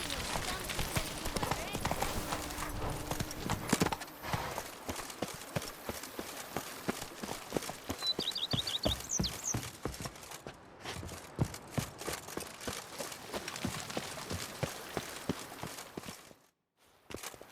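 Roach, the horse in The Witcher 3: Wild Hunt (Blood and Wine), gallops with a steady run of close hoof clip-clops, fading out near the end.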